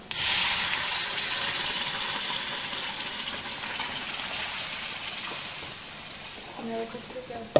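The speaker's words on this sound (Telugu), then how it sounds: "దీంట్లో కొంచెం వాటర్ యాడ్ చేసుకోవాలా" Water pours steadily into a pan of egg curry masala, a continuous gushing splash that softens slightly toward the end, with faint voices underneath.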